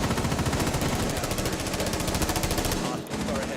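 Rapid, continuous automatic gunfire from a shooter video game fills the clip, loud and dense with repeated bursts, dipping briefly near the end before resuming.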